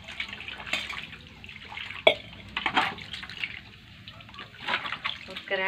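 Hands washed under running water, close splashing and dripping that rises and falls with a few sharper knocks, with a voice speaking intermittently.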